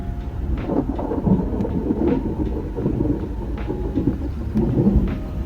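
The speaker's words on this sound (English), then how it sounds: "Summer rain." Steady summer rain pours down with low, rolling thunder rumbling throughout, a dense continuous wash of sound with occasional heavier swells.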